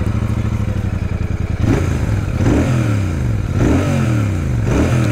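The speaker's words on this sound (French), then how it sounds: "Je vous laisse écouter ce petit moteur." A Royal Enfield Super Meteor 650 motorcycle engine idles steadily up close, then revs up and down several times in rhythmic bursts.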